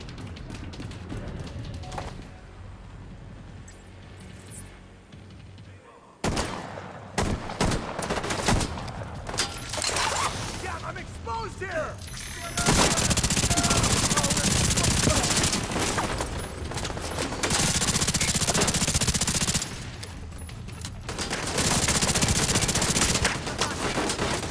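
Heavy gunfire in The Division 2 at the Capitol: bursts of automatic and single shots, near and loud, coming in waves of rapid firing with quieter gaps, while voices speak at times underneath.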